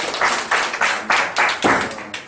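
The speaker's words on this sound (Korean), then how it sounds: "박수로 좀 환영합니다." Audience clapping to welcome a professor about to speak at a Korean policy studies academic conference, a few loose bursts of hand claps rising and fading, fairly close and moderately loud.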